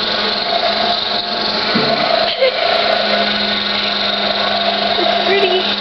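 A large power sander runs steadily throughout a grade 9 building construction class, a loud continuous whine and hum with shop noise and voices in the background.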